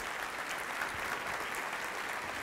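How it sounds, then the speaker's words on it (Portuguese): Audience applause filling a church auditorium, a dense steady wash of many hands clapping at an even level throughout, with no voices standing out. "Vamos encher esse auditório com o nosso aplauso de gratidão ao Deus misericordioso"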